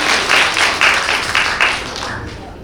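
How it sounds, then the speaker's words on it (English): Applause from a conference audience returning from a coffee break, a burst of clapping with rhythmic surges that fades out over a couple of seconds, close and fairly loud. "A huge round of applause"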